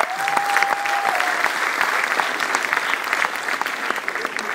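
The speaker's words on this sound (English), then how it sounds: "A round of applause for all of you present here." An audience at a Toastmasters International speech event claps steadily, a dense, fairly close burst of applause that holds throughout with a brief tonal whistle near the start.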